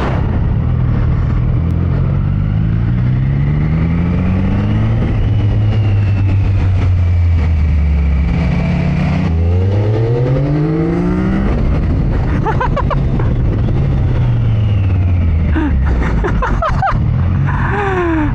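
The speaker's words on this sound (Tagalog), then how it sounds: "Oh man, drag racing with the speed triple." A Triumph Speed Triple motorcycle in a drag race, engine loud and close as it revs hard through repeated rising gear pulls, steady engine roar filling the whole stretch with wind noise.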